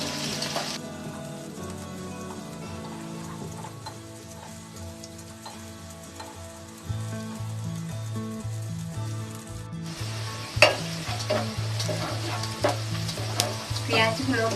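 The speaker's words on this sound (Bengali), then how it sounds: "পেঁয়াজগুলো হালকা বাদামি করে ভেজে নেব।" Chopped onions fry in hot oil in a pan until light brown, giving a steady, close sizzle and crackle that runs throughout with occasional stirring scrapes and clatter.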